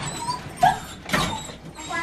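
Worried dogs whimper and yip at home as their crates are carried out ahead of a vet visit, a few short whines and squeaks rising out of quiet room noise.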